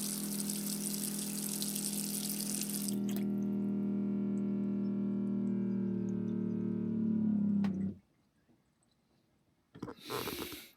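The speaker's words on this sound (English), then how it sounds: "I've not tried the tap yet, so I'm going to try it now. And you can listen with me and see just how noisy it actually is." A campervan's water tap runs on a newly replaced pump in a Fiat Ducato: a steady loud gush with a pump hum for about eight seconds, then it cuts off, followed by a short burst of splashing.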